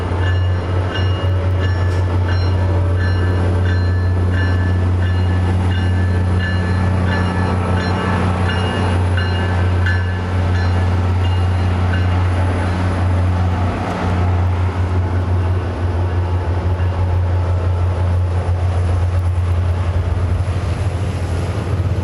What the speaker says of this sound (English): The train looks like it's about to leave here.